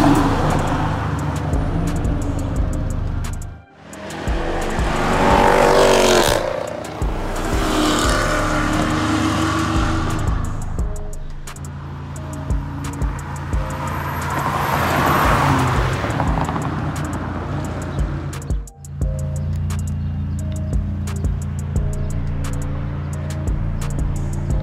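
Impala SS and Dodge R/T cars street racing in Mexico, engines roaring loud and close with rising revs and passing sweeps, a brief dip midway, then sustained engine noise.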